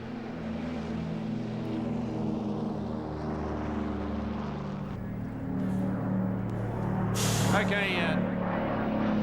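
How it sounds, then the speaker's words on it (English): Douglas Dakota in D-Day stripes taking off at an airshow, its radial engines a steady loud droning roar that shifts in pitch midway, while a voice speaks briefly over it. "The Dakota, also in D-Day stripes, is taking off"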